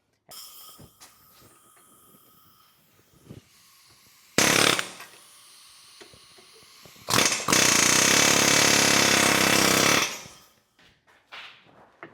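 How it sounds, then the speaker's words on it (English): A loud air hammer bursts in twice, knocking loose a nut on a Jeep Renegade lower control arm, first briefly and then in a sustained rattling run of several seconds, with quieter workshop clinks between. "I'm going to knock this loose with the air hammer"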